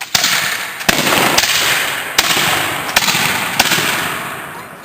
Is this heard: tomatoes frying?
no